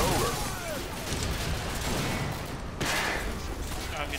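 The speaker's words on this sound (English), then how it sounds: "I'm getting shot in the back." Dense, continuous gunfire in Call of Duty Modern Warfare 2, a steady roar of shots and bursts filling the whole stretch, with a brief dip before the firing surges back loud and close.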